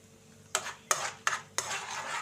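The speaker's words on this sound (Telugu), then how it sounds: "1 స్పూను పచ్చెనపప్పు వేసి బాగా వేయించుకోవాలండి." Chana dal fries in a pan while a spoon stirs it, giving four sharp scraping strokes at a steady rhythm, close and fairly quiet, with no talking.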